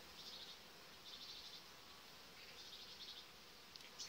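Honeybees hum steadily around an open hive during colony work, a continuous close buzz that swells and fades in waves, with no talking.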